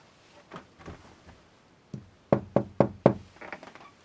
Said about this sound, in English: I knock on this door,